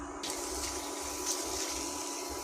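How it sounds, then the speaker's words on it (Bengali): Papad frying in hot oil, a steady bubbling sizzle that holds at an even level throughout without any talk. "দুটো ভেজে নিচ্ছি পাঁপড়গুলো"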